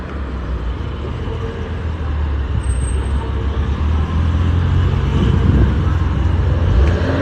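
A bus passes through busy street traffic, its engine rumble swelling as it approaches and stays loud near the end, amid a steady wash of road noise and other cars.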